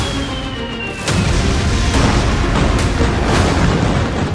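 Bomb and explosive blasts over smoke-covered Lebanon, with fires rising from residential areas: a dense, roaring rumble that swells abruptly about a second in, with sharp cracks punching through.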